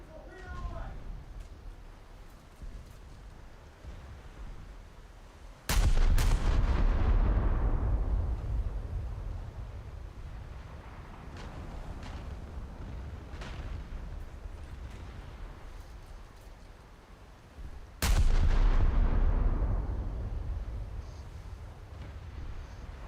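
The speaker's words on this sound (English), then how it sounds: "Torpedoes out. Hold your helm. Torpedo away. Torpedo away." Two heavy, booming torpedo launches erupt about twelve seconds apart, each with a long rumbling decay over a constant low background, while voices talk throughout.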